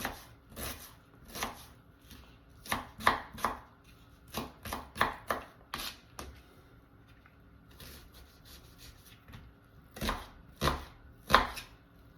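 A knife chops small onions into dice on a board, with irregular bursts of sharp, close thuds separated by short pauses, loud and without voices.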